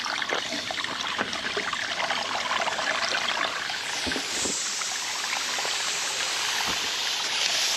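Water rushing from a leaking water line released under heavy head pressure, a steady close hiss and trickle running continuously throughout, loud and alone.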